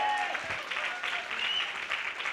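A congregation at a church sermon applauds, a steady wash of clapping with a few voices and faint tonal sounds mixed in, holding at an even level throughout.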